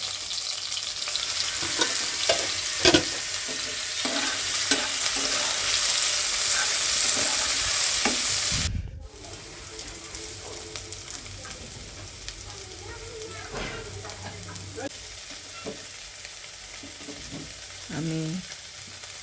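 Onions frying in oil in a pan, a loud busy sizzle punctuated by stirring knocks that drops abruptly to a quieter crackle midway and continues with occasional scrapes, with no one talking.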